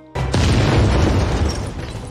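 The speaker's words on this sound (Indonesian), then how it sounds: "Keduanya memutuskan untuk kabur dengan lebih dulu meledakkan rumah tersebut." A house blown up in an action film: a sudden loud boom bursts in after a brief lead-in and rolls on as a dense, sustained roar of debris and rumble for about two seconds.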